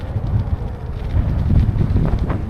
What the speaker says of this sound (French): Il fait du vent, je pense que ça va être embêtant pour la caméra.